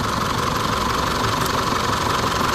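An overrunning Isuzu D-Max pickup engine runs loud and steady with a rough, rattling drone and no clear rises in pitch, close by with no voices.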